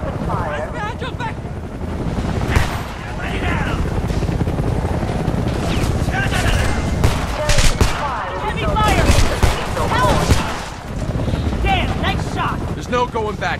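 Dense gunfire rattles in bursts through a frantic firefight in the video game Homefront, with rapid automatic fire, heavy rumbling background and voices shouting over the shooting.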